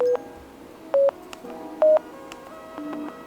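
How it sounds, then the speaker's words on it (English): Short electronic beeps from a Razer Kraken V3 Pro headset as its Hypersense haptic feature is switched on and stepped through levels: a few separate tonal blips at uneven spacing, each brief and clear over a quiet background. "those are the sounds of the Hypersense when you actually turn it on, and the different levels of when it is turned on or up"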